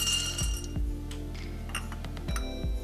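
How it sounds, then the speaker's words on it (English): Almonds tip onto a dry skillet for toasting, giving a few light clinks and taps of hard nuts against the metal, close and quiet over a low steady hum. "I'm gonna add the almonds"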